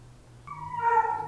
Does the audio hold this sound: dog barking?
yes